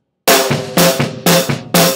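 Slow metal drum pattern with four heavy broadband hits about half a second apart, each combining a hi-hat wash with snare and low kick, played alone and loud.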